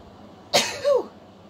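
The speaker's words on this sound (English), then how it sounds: "Just when I got to sneeze." A single close sneeze: a sharp breathy burst followed by a short voiced tail, loud against a quiet room.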